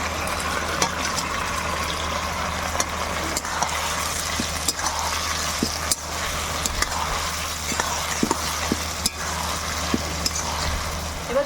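Fried eggs tipped into a pan of egg chili sauce with water and ground black pepper and stirred, giving a steady soft sizzle with scattered clinks and scrapes of a utensil, close and without talk.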